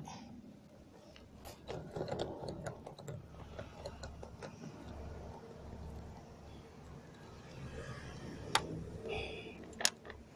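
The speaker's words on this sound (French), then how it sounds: "Donc c'est douille torx T20. Donc je vais la dévisser." A Torx T20 socket on a ratchet backs out a small screw on a Peugeot 407 HDi 1.6 door, making quiet close clicking and mechanical ticks with a few sharp taps.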